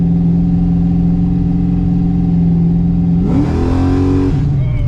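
Chevy car with a nitrous motor revving up hard, a loud steady engine drone that climbs sharply near the end into a higher-pitched roar, close to the listener.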